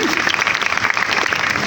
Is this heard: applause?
yes